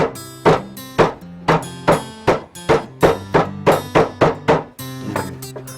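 Repeated ringing metallic hammer strikes flattening a patch on a pot, about a dozen evenly paced blows, close and loud, each with a short resonant tail.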